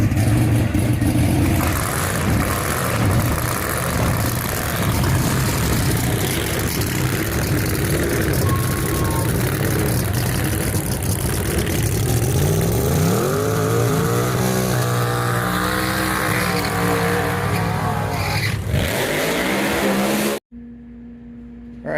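A Street Outlaws race car engine roars loud and close, holding a dense, sustained revving note for about twenty seconds before cutting off abruptly, with no talking over it.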